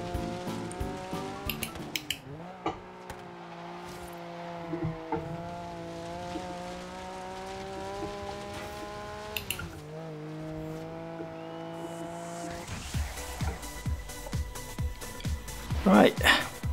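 Forza Horizon 3 car revving with steady engine harmonics while drifting, ending in a burst of louder tire squeal near the end, under speech.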